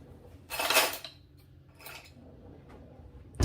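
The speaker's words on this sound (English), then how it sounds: "I'm going to grab my tablespoon and my teaspoon" Metal tablespoon and teaspoon picked up from kitchen utensils beside a small bowl, two brief clinking rattles that are close and quiet, then near silence.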